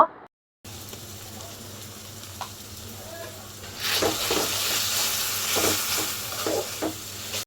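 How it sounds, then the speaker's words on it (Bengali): Onions sauté in a pan with garlic paste, cumin paste, turmeric, salt and chili as a soft, steady sizzle, while a utensil stirs with faint intermittent scrapes. The sizzle grows louder partway through. "আর একটু পেঁয়াজগুলো আমি একটু সুন্দর করে কষিয়ে নেব"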